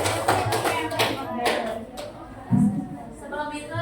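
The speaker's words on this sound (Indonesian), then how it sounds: "tepuk tangan untuk saya" A classroom of students clapping for their teacher, with a few scattered, fairly close claps mixed with children's voices and chatter.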